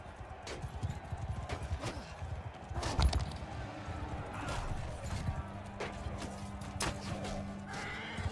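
Horse neighs and steady clip-clop of hooves in the medieval combat game Mount and Blade: War Sails, close and busy over a constant battle din, with occasional voices.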